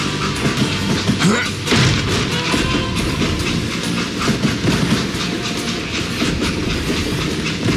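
A video-game train with an express car rolls along with a rhythmic clickety-clack of wheels over rail joints and some deep booms, all under a continuous rumbling din.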